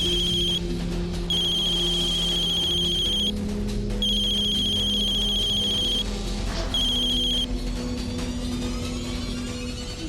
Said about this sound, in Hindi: मिली, फोन उठाओ।